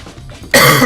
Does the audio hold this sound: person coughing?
yes